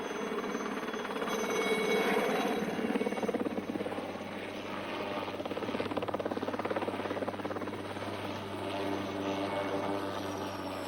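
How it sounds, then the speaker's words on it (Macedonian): A helicopter drones steadily throughout, with a continuous rotor and engine roar at moderate distance that swells slightly early on and stays constant, no talking. "Хеликоптер"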